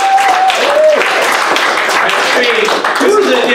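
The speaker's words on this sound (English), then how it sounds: "Round of applause for my very, very funny friends, guys." Audience applause at a comedy show, dense clapping filling the room for the full length, with cheering voices and short whoops rising over it.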